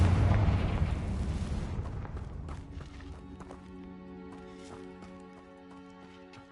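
A Confringo fire spell in Hogwarts Legacy bursts with a heavy, loud explosion at the start, its rumbling boom decaying over a few seconds into a quieter, sustained musical backdrop.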